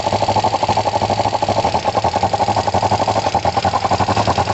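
Kawasaki ER5 twin-cylinder motorcycle engine running as it warms up with a suspected carburettor fault, a loud, steady, rapidly pulsing putter close by with no talk.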